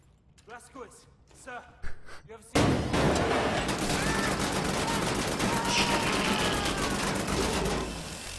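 Sustained gunfire in the shooter Wolfenstein: The New Order, a loud dense barrage with rapid repeated shots that starts abruptly after a brief stretch of speech and gasps, then continues steadily to the end.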